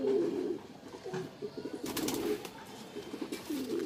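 A white Deobandi fancy pigeon coos close by in a repeated throaty rhythm, with some rustling and faint background noise; no talking.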